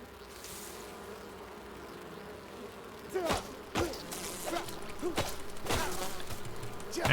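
A swarm of bees in the video game Enshrouded buzzes in a steady drone, with several sharp impact hits cutting in partway through as the buzzing grows louder.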